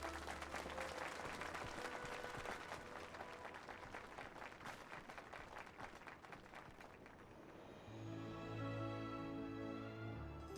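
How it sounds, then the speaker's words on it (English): A crowd of characters in a video game breaks into applause, a steady faint patter of clapping that gives way to soft background music near the end. "Clap, clap, clap, clap, clap,"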